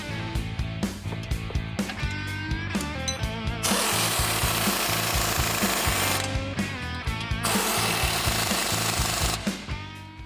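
Bolts being tightened on new truck lift brackets during a lift-and-level install: loud, rattling power-tool bursts at close range, first short and repeated, then one long continuous run, another pause and a final sustained burst.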